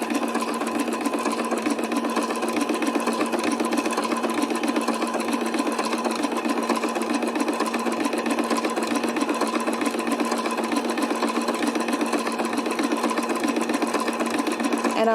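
A sewing machine runs steadily for the whole stretch, working a buttonhole stitch in a fast, even mechanical whir with a constant rapid needle rhythm, loud and close with no talking.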